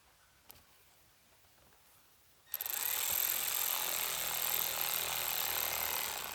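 After a quiet start, a power tool tightening screws kicks in and whirs loudly and steadily, close by, until the end, while a Linkswell GEN4 is installed on a 2018 Ram 2500.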